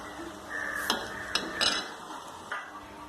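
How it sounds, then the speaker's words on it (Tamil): Sugar syrup for rava ladoo being stirred as it boils in a pan, a soft steady bubbling with a few sharper scraping clinks of the spoon against the vessel, close and moderately quiet with no talking. "இது நல்லா கலக்கி விட்டுட்டு நல்லா அந்த பாகு அளவுக்கு நம்ம காய்ச்சிடலாம்."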